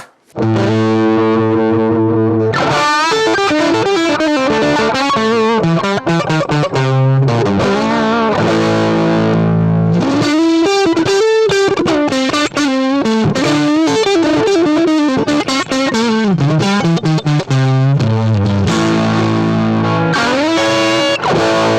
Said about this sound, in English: So if I push this amp, it'll actually start to break up.